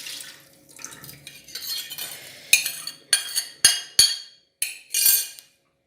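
Spices and onion paste for a paye curry are tipped into a cooking pot with a series of sharp metallic clanks and scrapes. The rhythmic knocks come close and loud after a softer stretch of stirring.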